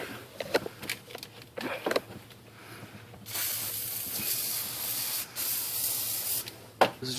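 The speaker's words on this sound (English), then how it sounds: "First step to this is literally just to soak these bolts down in some kind of penetrating liquid." Penetrating liquid sprays onto the exhaust manifold bolts of a GM vehicle in a steady, close hiss lasting several seconds, after a few softer clicks and rustles.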